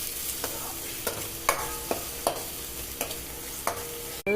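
Garlic and ginger frying in a pan for Madras-style fish gravy, stirred with a series of sharp scraping clacks about every half second over a steady close sizzle.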